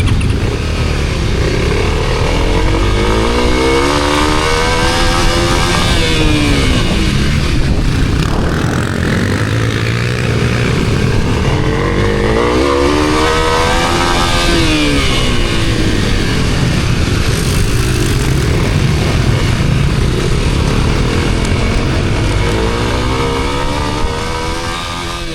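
Kawasaki KLX 300 dirt bike on a motocross track, its engine loud and close, repeatedly rising and falling in pitch through acceleration and gear changes in long sweeping waves.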